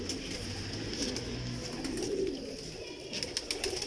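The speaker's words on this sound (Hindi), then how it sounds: "बहुत शमस साहब वाले कबूतर हैं, ये देखें, बड़े शानदार, बड़े खूबसूरत कबूतर" Pigeons of a strong-boned, fancy Lahore breed coo in low, steady murmurs close by, with continuous soft bird sounds and no talking.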